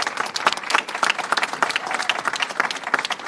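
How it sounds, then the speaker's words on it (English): An audience at a governor's bill-signing event on student loan affordability gives steady, fairly distant applause for Mila Jacey, an even patter of many hands with no break. "Let's give Mila Jacey a big round of applause"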